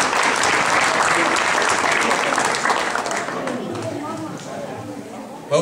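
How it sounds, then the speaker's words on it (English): An audience at a donor-appreciation gathering with a shared meal claps steadily and fairly close for several seconds, the applause tapering off as scattered voices and chatter take over at the end. "So we can have a round of applause for the folks that did bring"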